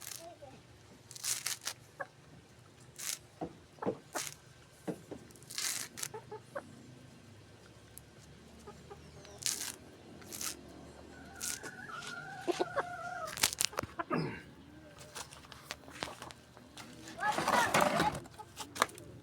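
Chickens cluck and squawk intermittently nearby, with a rooster's call and scattered rustling among quiet voices.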